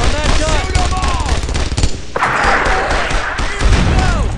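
Rapid bursts of gunfire from a World War II squad battle in Brothers in Arms: Earned in Blood, dense repeated shots and thuds under shouted voices, with a heavy blast midway and continuing fire.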